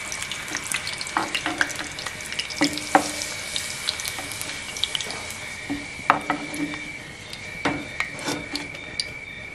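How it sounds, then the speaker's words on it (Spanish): Dried chiles fry in hot lard in a pan, giving a steady close sizzle with scattered crackles and pops, plus a few scraping stirs and clinks throughout. "Ya terminé de dorar los chiles"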